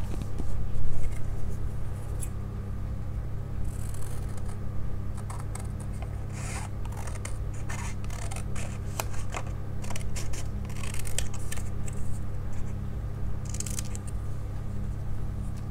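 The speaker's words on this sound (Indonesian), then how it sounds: "Lalu digunting." Scissors snip through paper for an origami craft, a run of quick crisp cuts and rustles at close range over a steady low background hum, with no talking.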